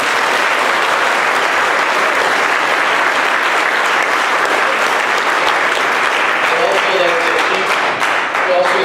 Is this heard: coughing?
no